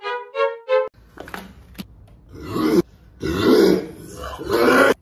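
Several loud, close burps from one person, coming in separate drawn-out, rasping bursts with short pauses and small grunts between them.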